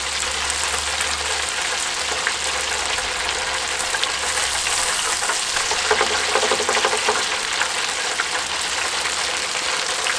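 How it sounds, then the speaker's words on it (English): Pieces of walleye fish deep-fry in a basket of hot oil, producing a dense, continuous crackling sizzle that stays loud and even throughout, with a faint low hum beneath and no talking. "we're going to go ahead and let that fry for, you know, 3 to 4 minutes, or until golden brown and they're floating"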